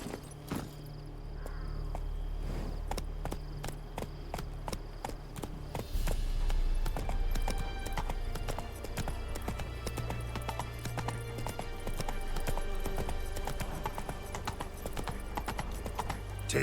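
Geralt's horse Roach trots along a road in The Witcher 3, her hooves clip-clopping in a steady, continuous rhythm, fairly faint and close, with a quiet ambient background throughout.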